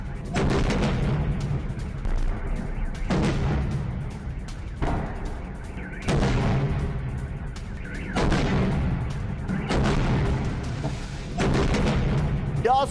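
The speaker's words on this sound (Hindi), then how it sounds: "कई जगहों पर कम दूरी की मिसाइलों से अटैक किया गया" Repeated heavy blasts from a short-range missile attack, a series of loud booming explosions roughly every two seconds, each followed by a rumbling decay, with no pauses of quiet between them.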